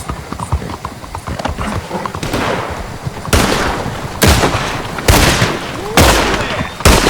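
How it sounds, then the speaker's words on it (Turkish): Sharp gunshots ring out during a video game gunfight on an RTX 4060 gaming laptop, several loud evenly spaced blasts with a hoof-like clatter beneath. "Şu an güzel bir çatışma sahnesi izliyoruz."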